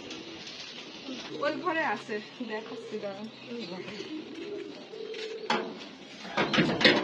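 Pigeons coo softly in a coop of foreign breeds kept as a hobby at a neighbour's house in Ishwardi, a few throaty calls mixed under close conversation and small household clatter.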